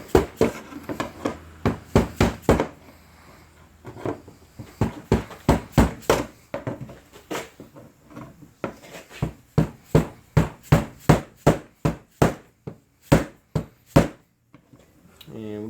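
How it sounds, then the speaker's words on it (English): Repeated sharp metallic taps of a hammer striking a long screwdriver during a Chevrolet Cruze fuel pump replacement, coming in quick bursts with short pauses, close and loud. "I'm just going to tap this with a hammer"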